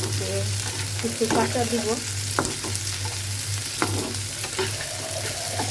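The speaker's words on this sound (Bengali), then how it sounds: "রসুন আর পেঁয়াজ তেলে ভেজে নিচ্ছি" Garlic and onion frying in oil for a mashed bhorta, a continuous close sizzle with spoon scrapes and clinks scattered throughout, and someone briefly speaking early on.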